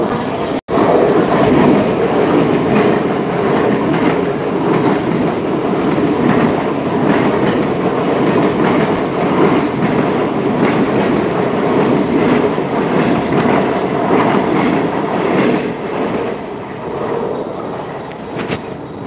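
A train at Ghatkopar station in Mumbai rumbles steadily and loudly throughout, with continuous rail noise, clattering wheels and no talk.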